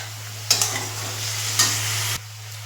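Chopped capsicum goes into chicken frying in a pan, setting off two sharp sizzling bursts over a steady low hum, each hiss hanging on before an abrupt stop; no one speaks.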